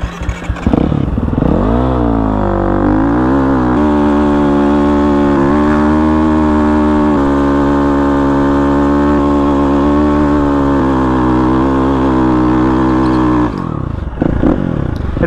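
A motorcycle doing rolling burnouts: a loud, close engine revs up sharply, then holds a sustained high-revving wail for several seconds before dropping off, with scraping clatter near the end.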